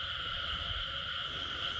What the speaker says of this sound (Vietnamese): Dạ ếch cái.